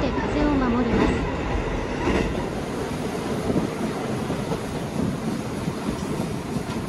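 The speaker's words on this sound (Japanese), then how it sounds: "列車はサッツル駅に到着です" A JR Hokkaido Senmo Line train rumbles steadily along the rails, loud and close, with a continuous roar and faint rhythmic clatter, plus a voice speaking briefly underneath.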